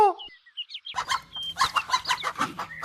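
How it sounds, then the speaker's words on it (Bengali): A cartoon hen clucks in a quick run of short, bright calls, close and fairly loud, as she is grabbed and carried off, with rustling underneath and no speech. "সে মুরগি ধরে নিয়ে যাচ্ছে।"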